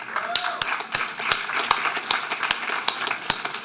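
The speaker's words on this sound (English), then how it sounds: "she got applause for this" A convocation audience clapping, heard as a sparse series of distinct sharp claps rather than a dense wave of applause, fairly close and under faint background noise.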